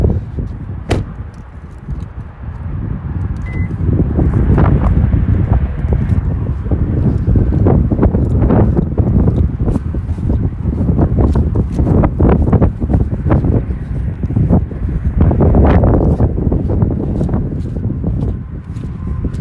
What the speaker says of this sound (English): See, it's too windy.